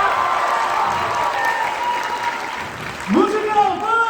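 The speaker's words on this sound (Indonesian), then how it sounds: "tepuk tangan sekali lagi semuanya" Conference audience applauding, a dense steady clatter of clapping that carries for about three seconds before tailing off as a voice speaks and cheers over it.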